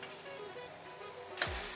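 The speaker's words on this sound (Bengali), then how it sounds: "তো আমি এভাবে লাল করে একটু ভেজে নিচ্ছি।" Small maloti fish frying in oil: a faint, steady sizzle with a brief sharper clatter near the end, heard alone without talk.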